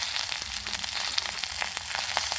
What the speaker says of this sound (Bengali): এখন দেখুন ভালোভাবে ভাজা হয়ে গেছে